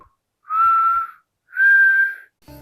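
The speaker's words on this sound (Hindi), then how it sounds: "डिनर रेडी करते करते एक सीटी की आवाज आई।" Two long, steady whistle tones, each lasting under a second with a short gap between, sound clearly in an otherwise quiet room while dinner is being made in a kitchen.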